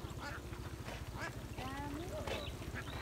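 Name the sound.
ducks quacking in a field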